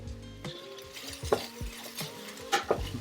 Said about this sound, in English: Also help to deglaze the bottom of the pan a little bit.